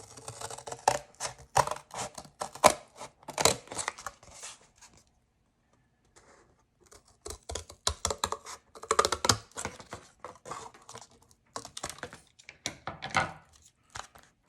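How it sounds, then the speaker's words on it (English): Scissors snip paper in quick, dry bursts, close and crisp, stopping briefly before resuming as a paper book cover is cut out. "Now I'm going to cut it out."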